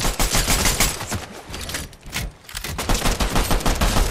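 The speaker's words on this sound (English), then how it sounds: "That's all I have is shotgun." Rapid bursts of gunfire fill a video game firefight, loud and nearly continuous with a brief lull in the middle, including shotgun blasts, with no speech.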